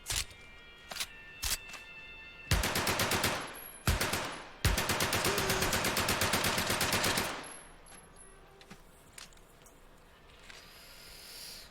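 MP40 submachine gun firing in the Medal of Honor: Above and Beyond VR game, loud close automatic bursts: a few single shots, then two long rattling strings of rapid fire, with quieter clatter afterward.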